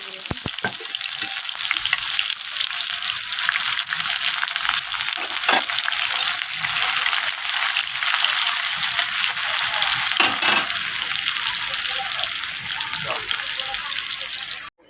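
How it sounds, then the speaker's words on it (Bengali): An egg fries in a pan with a loud, steady crackling sizzle throughout and a few sharper pops and spatters, ending abruptly. "এই যে আমি এখন আন্ডা একটা ভেজে নেব, একটা আন্ডা।"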